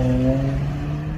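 A Dodge Charger with an aftermarket exhaust revs, giving a brief throaty engine drone with strong low harmonics that fades as the revs drop. Close and loud, with no talk.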